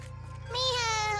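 A cartoon cat lets out one drawn-out, wavering meow in a Tamil animated series, loud and close over a low, steady background hum.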